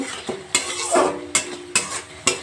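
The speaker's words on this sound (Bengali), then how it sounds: "পরিমাণ মতো চিনি এবার একটু নাড়াচাড়া করে দেব" Pumpkin kofta curry with sugar stirred in a pan, with a soft frying sizzle beneath a series of sharp, regular spoon knocks and scrapes against the pan, roughly one every half second.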